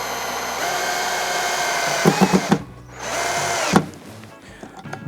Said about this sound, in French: je vais mettre en position maximale, enfin à vitesse maximale